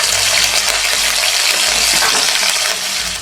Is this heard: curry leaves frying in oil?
yes